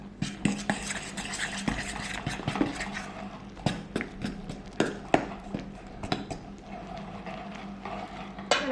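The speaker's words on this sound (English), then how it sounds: "just mix the dough with your fork until we don't have any dry bits of flour" A fork mixes bread flour dough in a bowl, giving repeated sharp scraping taps and clicks in an irregular rhythm, close and fairly quiet, with no talking.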